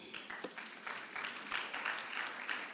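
Attendees at an education conference in Enugu give a round of applause for a departing speaker, a fairly faint but steady patter of many hands clapping that grows slightly fuller toward the end.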